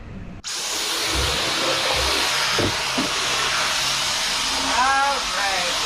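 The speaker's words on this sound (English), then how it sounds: "Good thing I got the vacuum right there." A vacuum cleaner switches on abruptly and runs with a loud steady hissing whine inside an RV, with faint speech-like sounds briefly heard beneath the motor.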